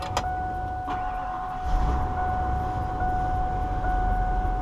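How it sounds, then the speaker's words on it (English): A church bus engine cranks over after a couple of clicks and catches, settling into a low steady idle rumble close by, with no talk. "We're going to do a start up here"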